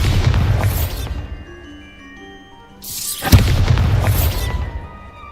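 Two loud, booming blasts of the Bombarda explosion spell in Hogwarts Legacy, a broadband burst with rumbling decay, then a quieter ringing gap before a second close, heavy explosion that sustains and fades; no talking.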